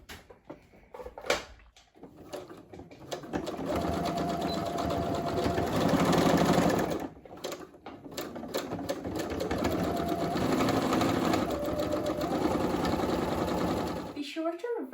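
A sewing machine stitches a double-layer fleece scarf in fast, loud runs, pausing briefly between bursts, with a voice speaking near the start and end.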